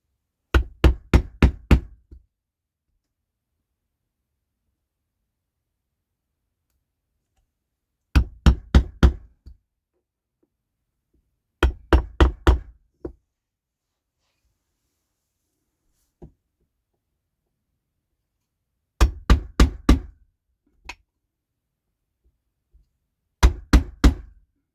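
A hammer taps an awl to start a small hole in a wall for hanging blankets, heard as five separate quick bursts of about five sharp knocks each, close and crisp with silence between bursts.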